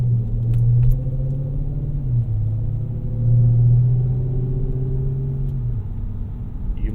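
Deep, steady exhaust rumble from a 2007 Dodge Charger SRT8 with the 6.1 V8, heard from inside the cabin with the windows up and swelling slightly as it pulls, loud and continuous with no talking.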